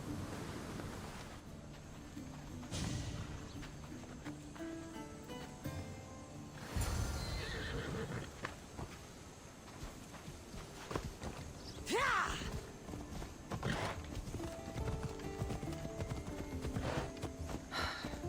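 Horses in the video game Assassin's Creed Odyssey, with hooves clopping at a steady pace, a loud whinny and snorts over ambient wind and game music, voices talking briefly in between.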